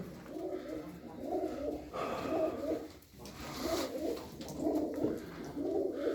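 Pet birds, a male and a female, coo close by in repeated soft, throaty bursts that swell and fade in a steady rhythm over low background noise.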